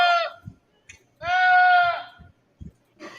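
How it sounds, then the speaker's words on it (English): Goats and sheep bleat in loud, strained, scream-like cries, one long wavering call dominating the middle with shorter bleats at the start and end, and scattered low knocks and thumps in between. "Have you never heard of screaming goats and sheep before?"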